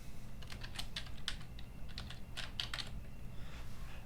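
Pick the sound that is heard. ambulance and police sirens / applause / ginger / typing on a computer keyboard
typing on a computer keyboard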